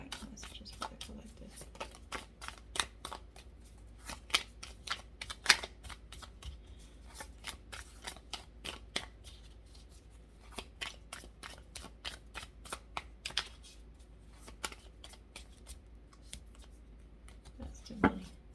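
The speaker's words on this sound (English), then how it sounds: "let me shuffle this" Oracle cards are shuffled steadily over a long stretch, a close, crisp series of rhythmic slaps and flicks repeating every half second or so against a low hum.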